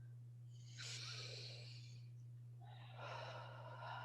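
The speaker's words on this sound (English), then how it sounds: "And you're going to breathe." Deep breathing close to the microphone: a long drawn inhale, a pause, then a slow exhale, over a faint steady hum.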